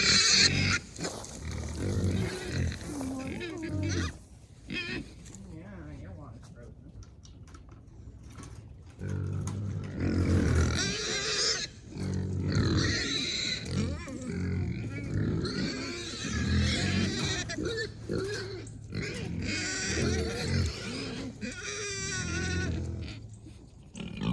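Pigs grunt and snort repeatedly in uneven bursts at close range during a frigid-weather farm feeding, mixed with occasional bleats from breeding buck goats and farmyard clatter, with no talking.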